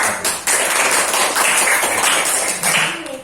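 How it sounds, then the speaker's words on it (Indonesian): A classroom of students claps hands in a brisk, continuous round of applause with distinct sharp hand claps, fairly close and loud, fading slightly at the end. "Kasih tepuk tangan dulu."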